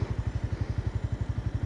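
Honda CBR300R motorcycle engine under hard acceleration, a steady rapid low throbbing pulse with a buzzing edge, heard close and continuous for a brief stretch without any talk.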